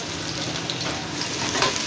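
Onions frying in hot ghee, giving a continuous, dense sizzle that stays close and steady with no voices over it.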